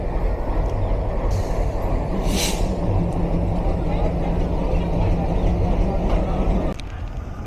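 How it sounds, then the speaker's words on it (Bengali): A heavy diesel passenger train rumbles steadily into Natore railway station, engine drone constant, with a brief high hiss midway and crowd noise around it. "ট্রেন নাম্বার 794 6619 লোকোমোটিভ নিয়ে প্রবেশ করলো নাটোর রেলওয়ে স্টেশন"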